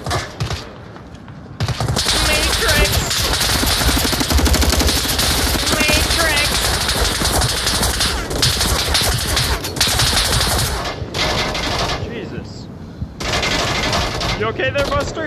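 Dense, loud machine-gun fusillades and gunshots rattle almost continuously in a World War II beach-assault video game, briefly dropping out near the start and near the end, with a player talking over the firing.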